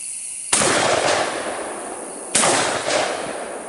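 An FTS over-under break-open shotgun fires two loud, close outdoor blasts about two seconds apart, each with a sharp crack and a short rolling echo.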